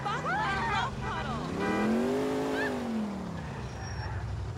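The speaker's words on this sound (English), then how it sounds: "I can like hear the engine struggling" A banged-up police car in Grand Theft Auto IV strains loudly, its engine tone climbing then sagging over a few seconds, with faint road and tire noise beneath.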